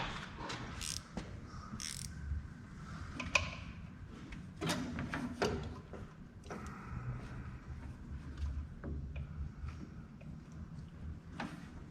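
A wrench ratchets and clanks against parts of a long-neglected Austin Healey Sprite, about 40 years off the road. Close, intermittent clicks and metallic knocks come in irregular bursts over low background noise.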